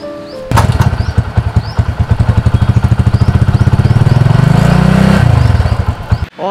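A motorcycle with a bent front-wheel disc brake plate rides along, its steady engine drone carrying a faint, rhythmic chirping squeak that repeats with each wheel turn before the sound cuts off abruptly.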